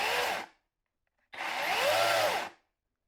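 A Kobalt 24V electric chainsaw runs up loudly in two separate bursts close by, a short half-second whir, then silence, then a longer whine of just over a second before it cuts off.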